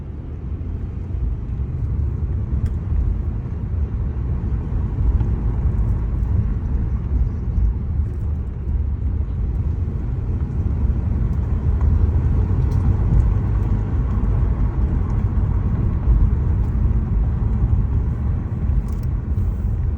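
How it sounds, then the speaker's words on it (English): A 2013-2017 Honda Accord with new front rotors and pads rolls along on a test drive, its steady low road rumble and tyre noise filling the cabin evenly throughout. "now we're gonna take it for a test drive"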